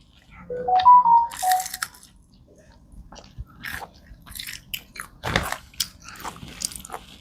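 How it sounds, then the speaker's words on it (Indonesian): Several sharp, crunchy bites into a crisp fried snack, followed by loud close-up chewing; a brief tone sounds near the start. "Tadi denger nggak bunyinya pas digigit? Kriuk, kriuk, kriuk."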